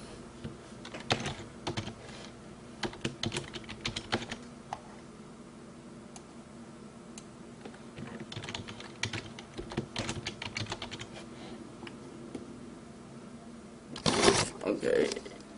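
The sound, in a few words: typing on a computer keyboard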